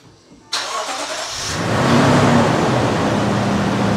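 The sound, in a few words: Lexus GX460 engine starting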